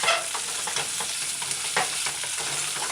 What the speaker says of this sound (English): Stir fry, stir fry.